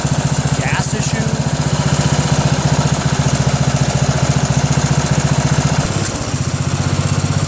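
A Craftsman LT1000 lawn tractor with a 15.5 HP Briggs & Stratton engine and 42-inch hydrostatic drive runs steadily and loudly up close. It has a fast, even putter, with a brief dip near the end.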